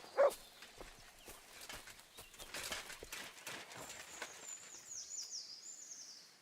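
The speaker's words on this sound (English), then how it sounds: "Somebody untied the horse and led him along the path." Horse hooves from Kingdom Come: Deliverance 2 clip-clop softly along a path in a steady, faint rhythm, with light ambient outdoor sounds and a high bird-like tone.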